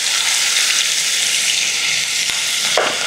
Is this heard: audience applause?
no